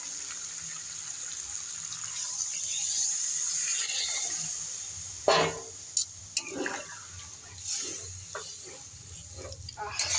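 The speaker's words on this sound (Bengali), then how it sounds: "আমি এবার জল দিয়ে দেবো।" Water poured into a pan of potato and cauliflower curry after the spices are fried, a gushing pour followed by bubbling and sizzling hisses with scattered splashes and clinks, fairly close, with no talking.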